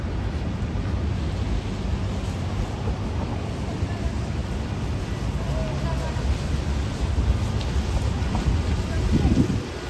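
Rain falls on a city street in Midtown Manhattan, New York City, as a loud, steady wash of hiss and patter. The noise continues throughout with a low background rumble.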